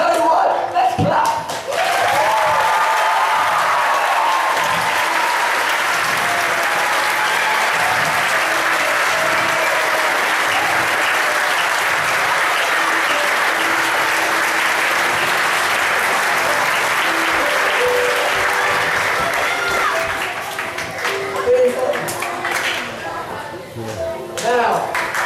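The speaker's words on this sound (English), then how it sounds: "Tell you what, let's clap." Sustained loud audience applause from a church teaching-session crowd, dense clapping filling nearly the whole stretch before tapering off near the end.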